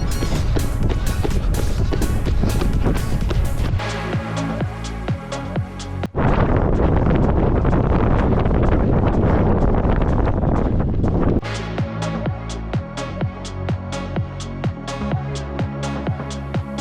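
Heavy wind buffets the microphone while a runner trains outdoors on an industrial estate, with loud continuous gusting roar and rhythmic footfalls thudding throughout.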